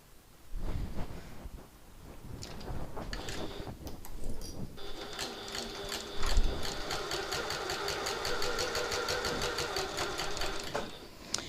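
A sewing machine stitches bag fabric, starting with a few short bursts and then running at a fast, steady mechanical clatter for several seconds before it stops. The sound is close, with no one speaking.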